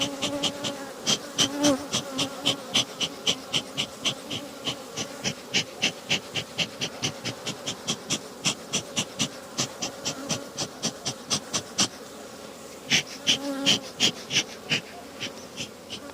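Honey bees buzz around a double-story hive, with a rhythmic pulsing drone that repeats steadily and fairly loudly throughout, no voices present.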